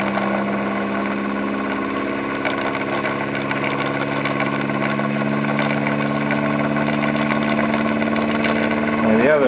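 Homemade pulse motor driving a generator, giving a steady close electric hum with layered tones that climbs in pitch near the end as it speeds up.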